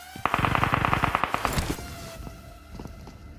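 Rapid burst of enemy gunfire in PUBG Mobile, about a dozen sharp evenly spaced shots rattling off loud and close, then trailing into a few scattered fainter cracks and game ambience.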